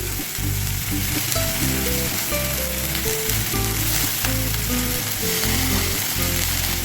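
Cabbage frying in a pan for chicken thukpa gives a loud, continuous sizzle that stays steady and close the whole time, with a faint tonal hum running underneath.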